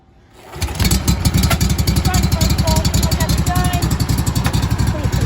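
A 2014 Wright Velke 48 mower engine is pull-started and catches almost at once, then runs on in a loud, steady, chugging idle close by.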